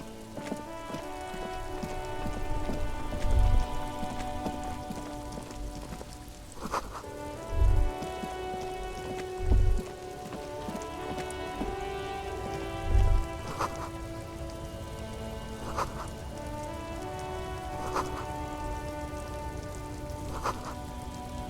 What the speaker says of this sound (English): This rain will not let up anytime soon.